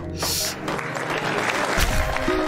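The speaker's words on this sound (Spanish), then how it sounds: "Aplauso." Courtroom applause from the video game The Darkside Detective 2, a short burst of clapping at steady loudness with some game music or tones beneath it, no talk.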